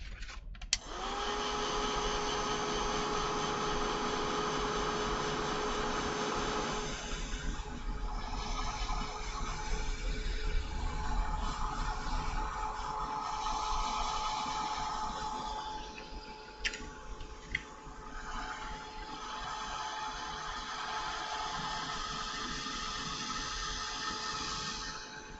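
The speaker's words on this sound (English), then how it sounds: "And a heat gun." A heat gun blows steadily for about twenty-five seconds during a craft project, a loud continuous fan whoosh with a steady motor whine.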